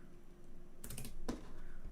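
Keys clatter on a computer keyboard in two quick, close bursts of clicks against a faint room hum, with no voices.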